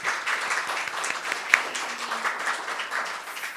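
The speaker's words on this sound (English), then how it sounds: "We'll give them a round of applause" Applause from an audience, a steady soft patter of many hands clapping, moderately distant and fairly quiet.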